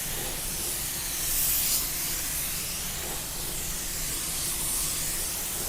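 A paint spray gun laying down automotive clear coat, an even continuous hiss of atomised spray that swells slightly in passes, close and steady throughout.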